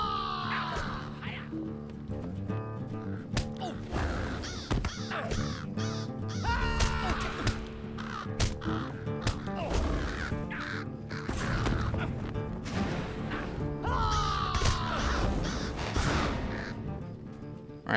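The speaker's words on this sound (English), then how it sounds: "Can also kill some of the crows here." Crows caw repeatedly in a Lord of the Rings Online game scene, harsh calls rising over a dense layer of game music and combat effects, loud and close throughout.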